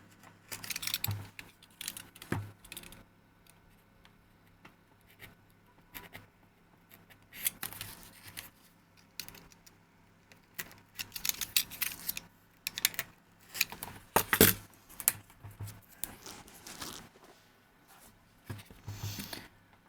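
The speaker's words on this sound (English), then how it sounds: "Fresh blades just cut foam so much nicer." A fresh craft knife blade slices through foam during a small FPV aircraft build, giving scattered bursts of crisp scraping and crackling cuts with quiet pauses between them, heard up close.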